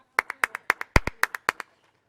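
Hands clap about ten times in a brisk, slightly uneven rhythm, crisp and close, then stop, leaving near silence.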